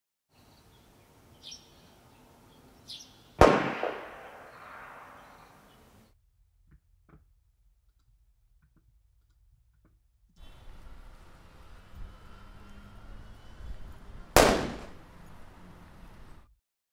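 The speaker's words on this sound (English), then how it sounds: "I'm going to start by playing two gunshot sounds." Two loud gunshot sound effects made from the same sample, one early and one near the end, each a sharp crack trailing into a reverberant tail, separated by a long quiet gap.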